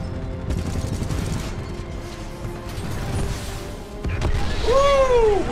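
Dense gunfire in the video game Titanfall 2, a sustained rattling burst of shots with mechanical clanks, loud and continuous, ending in a rising whine.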